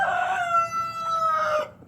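A rooster crows once, loud and close, in a drawn-out call that trails off near the end.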